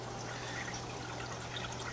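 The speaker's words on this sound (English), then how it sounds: "you can see that the water is flowing out" Aquarium water steadily trickling and pouring out through a gravel cleaner siphon during a water change, a continuous close gush with no break.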